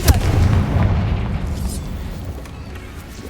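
A Confringo blasting spell bursts in Hogwarts Legacy, a loud booming explosion at the start that rolls into a low rumbling decay, with a voice heard over the blast.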